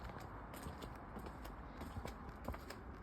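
Horses' hooves clip-clop in an irregular, soft patter against a steady background murmur, moderately distant with some faint creaking, no talking.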